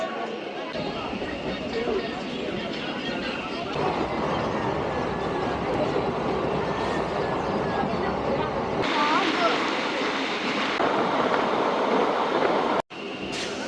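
A train starting to move out of a station rumbles and rattles steadily, with a faint squeal of wheels, while voices carry on in the background.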